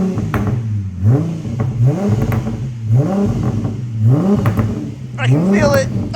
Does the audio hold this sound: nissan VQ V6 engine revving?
yes